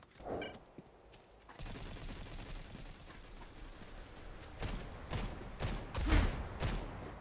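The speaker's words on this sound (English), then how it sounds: "I saw the sniper NPC shooting at something" Sniper gunfire from a non-player character rings out in the STALCRAFT shooter game, with several sharp shots spread irregularly across the clip, the loudest near the end, over a low ambient rumble.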